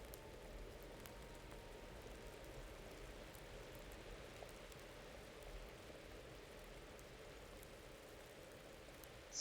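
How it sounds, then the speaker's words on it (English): Rain falling steadily in the medieval RPG Kingdom Come: Deliverance, a soft continuous wash of patter with a low rumble beneath, even and unbroken throughout, with no voices. "It's raining outside too."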